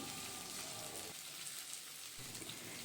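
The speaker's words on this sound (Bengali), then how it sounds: "রসুনটাকেও দু তিন মিনিটের জন্য নেড়েচেড়ে নিয়ে ভেজে নেব যাতে কাঁচা গন্ধটা না থাকে" Chopped garlic frying in a pan for a Bengali egg bhindi dish, giving a soft, steady hiss and crackle that briefly quiets in the middle before resuming.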